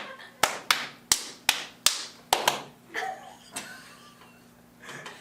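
A quick run of sharp hand claps, about eight in a steady rhythm, loud and close, then a few softer scattered claps.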